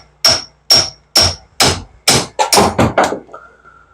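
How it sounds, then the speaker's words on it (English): A hammer strikes a nut on a 1957 Chevy, eight sharp metallic blows: several evenly spaced, then a quicker burst, ending in a brief ringing tone. Loud and close, with no talking. "hit it with a hammer a couple times"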